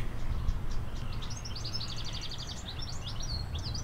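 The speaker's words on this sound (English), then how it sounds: "I think that was a dunnock" A dunnock gives a quick run of high, thin chirping notes, fairly faint over a steady low background rumble, at Greenwich Peninsula Ecology Park.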